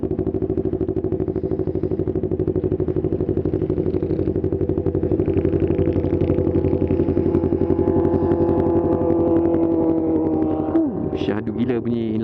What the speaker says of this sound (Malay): Syahdu gila bunyi inline 4.